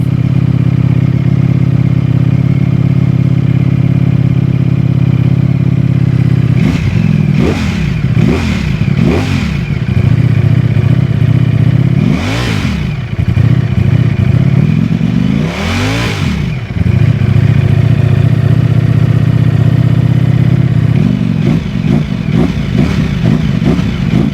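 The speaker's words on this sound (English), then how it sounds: "So let's turn this bike on." A Ducati Streetfighter V4S V4 motorcycle engine idles loudly and close with a deep steady rumble, punctuated by several sharp throttle blips that rise and fall, the last ones rapid and clustered.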